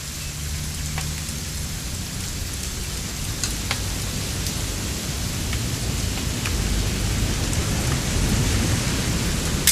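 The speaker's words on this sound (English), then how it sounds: "It's gonna rain the whole weekend," Steady rain with rumbling thunder in the video game What Remains of Edith Finch, a dense, constant downpour throughout with low rolling thunder underneath, loud and close.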